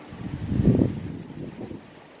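Low rumbling wind buffets the microphone, swelling into a stronger gust before settling into a steady blustery hiss.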